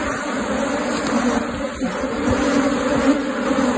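Apis honey bees swarm around an opened hive super, making a dense, steady buzzing drone up close that fills the whole moment, with no voices.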